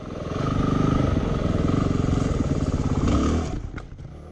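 A Yamaha WR250R dirt bike engine drones steadily up close as it hops over a suspended log, with a brief clatter and a drop in engine sound near the end.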